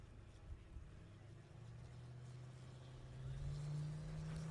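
Drag racing launch at a diesel event: the D2 Motorsports hot rod against a 2008 Chevrolet Silverado from Oakdale, California. A low, steady engine drone holds throughout and swells louder toward the end.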